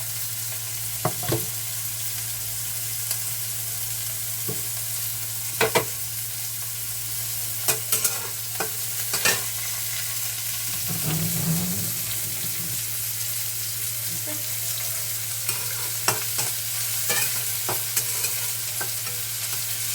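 Onions fry in a pan with a continuous sizzle, broken by repeated sharp clinks and scrapes as a utensil stirs, and no talk is heard.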